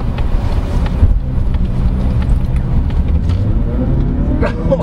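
Loud, steady low rumble of a 2020 Mazda 3 sedan engine while driving, with road and wind noise filling the cabin throughout.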